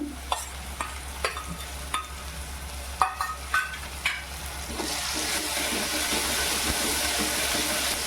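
Onion with ginger-garlic paste fries in a pan, several sharp spoon scrapes and taps over a low sizzle, then the frying swells into a loud, steady hiss.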